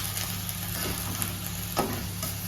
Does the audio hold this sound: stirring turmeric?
yes